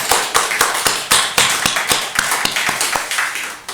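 A congregation at a Christmas Sunday church service claps in a steady, rhythmic beat, with sharp, close claps at about four per second and no talking over them.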